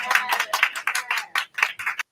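Audience clapping at a township special meeting, a burst of quick claps with voices mixed in, fairly near and steady for about two seconds before stopping abruptly.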